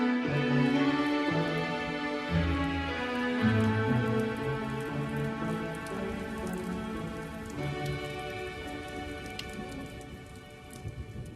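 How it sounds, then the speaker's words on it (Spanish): Rain falls persistently on window panes, a soft continuous patter under sustained music, with no talking. "La lluvia cae pertinaz sobre los cristales"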